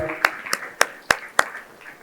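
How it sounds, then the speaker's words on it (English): Five sparse, evenly spaced hand claps from an audience at a corporate panel discussion conference in Dubai, a thin greeting as panelists come up, with faint talk in the background. "Let's give them a round of applause as everyone comes up."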